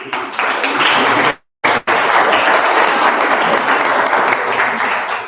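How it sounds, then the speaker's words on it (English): Loud, continuous applause from a class audience at a design school in Milan, honouring an award-winning Radio Maria restyling project, with a brief silent break in the middle before the clapping resumes. "So a big clap to him"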